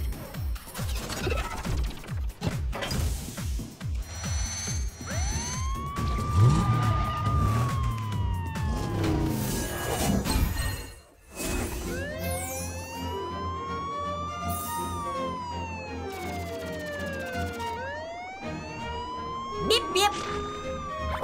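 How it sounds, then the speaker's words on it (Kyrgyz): A cartoon fire truck siren wails in rising and falling sweeps, loud and repeated, alongside other cartoon sound effects and a voice speaking over the scene. "Өрт өчүрүүчү Гордон кызматка даяр"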